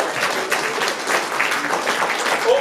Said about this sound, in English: massive round of applause for our photographer and videographers